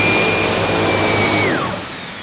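A Sebo K3 Premium 890 vacuum cleaner runs with a loud, steady motor whine and airflow roar, its pitch dropping near the end as the motor begins to wind down.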